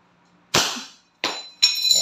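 A Wingun 708 silver airsoft revolver fires in single action: three sharp, close cracks with metallic ring, spaced under a second apart, after near silence.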